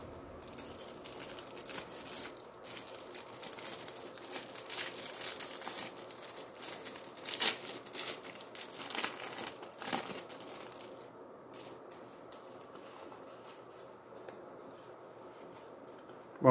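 A Dragon Ball GT trading card pack wrapper being torn open and handled, close crinkling and crackling plastic foil in irregular bursts, busiest in the middle, then quieter rustles toward the end.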